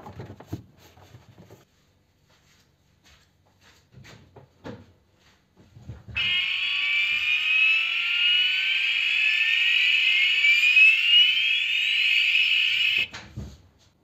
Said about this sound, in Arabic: إذن بهذه الطريقة نقوم بتركيب منبه الرجوع للخلف